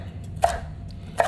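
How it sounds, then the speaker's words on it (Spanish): Two crisp knife chops through vegetables, likely chayote, being cut into sticks on a cutting board, close and distinct, separated by a short pause, no voices. "La picamos en forma de bastón"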